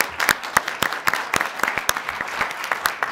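A small group at a council meeting claps with distinct, fairly regular handclaps, moderately close and without cheering or talk.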